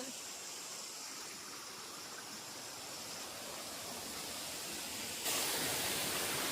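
Continuous broadband rush of falling water from a small cascade, steady and fairly close, growing noticeably louder near the end.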